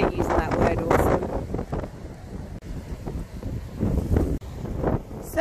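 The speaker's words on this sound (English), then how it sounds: "Windy, just slightly" Gusty wind buffets the microphone in heavy low rumbling bursts, with a person talking intermittently over it.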